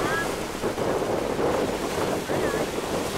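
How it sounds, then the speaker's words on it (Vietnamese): Strong storm waves surge around a small fishing boat heading for shore, a continuous loud wash of water and wind buffeting with brief swells, no talk. "Sóng hiện giờ quá mạnh"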